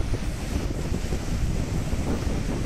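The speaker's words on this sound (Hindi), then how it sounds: "ये देखिए ये लहरें, ये पानी की लहरें" Sea waves on the beach at Visakhapatnam, heard as a constant rumbling surf under heavy wind buffeting on the microphone, with no clear individual breaks.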